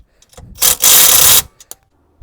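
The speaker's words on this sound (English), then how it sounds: "So now we tightening down the bolt for the front motor mount that we loosen up." A wrench tightens the front motor mount bolt on a Toyota Camry, giving a loud, close burst of rapid ratcheting clicks for about a second, with a few sharp taps before and after and no talking.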